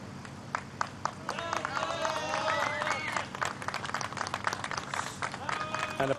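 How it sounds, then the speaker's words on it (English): A waiting crowd at the rescue of a trapped miner applauds and cheers, a dense, steady wash of clapping with scattered shouts and babble, fairly far off and continuous. "And applause from the waiting crowd,"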